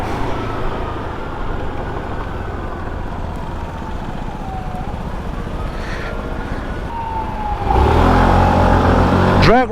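SYM 125cc scooter accelerating through traffic in a drag race, a steady engine drone that rises in pitch and swells louder near the end, with road and wind noise throughout.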